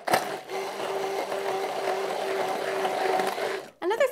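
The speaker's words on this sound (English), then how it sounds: "All right, so it's time for blending this up." A blender whirs steadily for several seconds while blending a chipotle lime mayonnaise spread, close and loud with a constant motor drone, stopping briefly before a short restart at the end.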